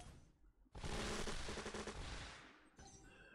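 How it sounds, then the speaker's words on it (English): A Toon Blast disco ball and rocket combo goes off as a sudden loud burst of rapid crackling blasts lasting about two seconds, then fades into lighter game effects. "Disco ball rocket combo."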